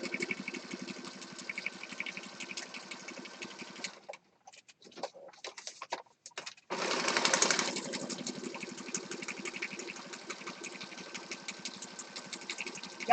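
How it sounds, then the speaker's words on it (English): A sewing machine stitches around paper rectangles for a junk journal, making a steady, fast mechanical whirr. It stops briefly partway through with a few clicks, then runs again at a slightly louder hum. "So now I'm just going to go over here to these rectangles and sew around those."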